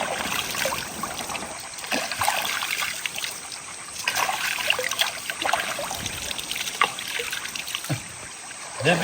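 Water flows in a hill river, a steady broadband rush with trickling and splashing accents throughout, moderately loud and close, with no voices.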